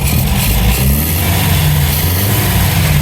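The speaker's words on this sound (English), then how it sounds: "It's revving up again now." An MGB GT engine being revved during diagnosis and repair, a loud, close, continuous mid-range engine drone with rising and falling harmonics as the revs change, with no talk over it.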